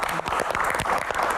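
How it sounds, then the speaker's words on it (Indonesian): Audience clapping at a Q&A stage event, dense and steady throughout, loud and close, with no other sound over it. "Wow, tepuk tangan."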